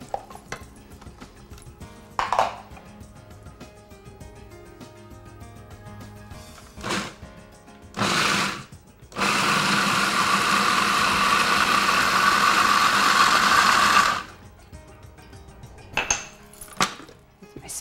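Food processor pulsing basil pesto while olive oil streams in, several short motor bursts and then one long steady whir of about five seconds, close and loud, with clinks of dishes in between and no talking.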